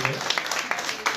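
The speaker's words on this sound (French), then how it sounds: "on l'applaudit beaucoup" A theatre audience applauds the actors after a performance of L'Impasse, with a brief burst of clapping that sounds a little muffled and blends with talk.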